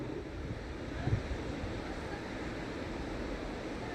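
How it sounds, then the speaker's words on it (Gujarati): Steady surf washes onto St Ives beach in Cornwall, a continuous soft roar of breaking waves mixed with wind rumble on the microphone, with no talk. "દરિયાનો અવાજ પણ સાંભળી શકો છો"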